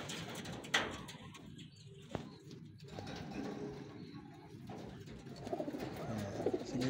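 Breeder pigeons in a loft coo softly in repeated low rumbling calls, with faint shuffling and background noise around them.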